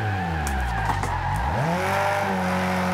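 A V8-swapped car in the racing game Forza Horizon 2 roars under hard acceleration. Its loud engine note drops as it shifts into second gear and then climbs again, with tire squeal and no voices.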